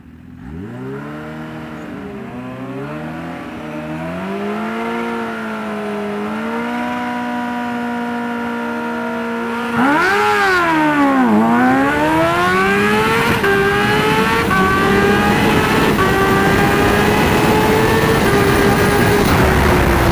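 A Kawasaki H2 and a turbocharged GSXR 750 race side by side. Loud engines climb in pitch through several gear shifts, with overlapping whines building to a stronger roar and no voices.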